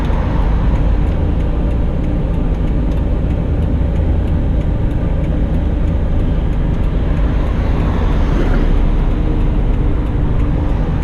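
A 1983 Daihatsu Hijet engine running while driving, a loud continuous drone with road and wind noise, steady throughout and close from inside the cab.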